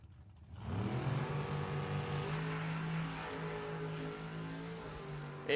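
A nitro funny car roars through a drag race run at an NHRA Hot Rod Heritage event, a loud sustained engine blast starting after a short quiet lead-in, holding steady with a droning tone and a brief surge at the end.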